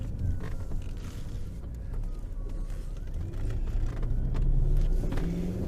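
A 2001 Audi S6 is driven through second, third and fourth gears using the steering wheel paddles, heard from inside as a low, muffled engine drone and road rumble whose pitch rises and drops with each shift.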